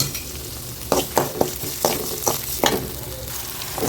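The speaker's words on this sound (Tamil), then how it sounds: "கொஞ்சம் வதக்கட்டு வெங்காயம்" Onions sautéing in a pan with salt for a village-style okra tamarind curry: continuous sizzling broken by repeated sharp stirring scrapes at irregular intervals, close and alone.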